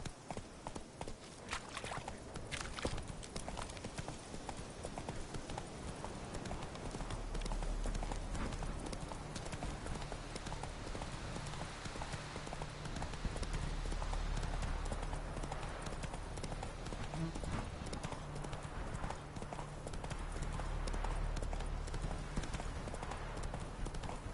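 Horse hooves gallop in The Witcher 3 video game, a rapid, continuous clip-clop rhythm that runs steadily over a rushing outdoor wash and a low rumble.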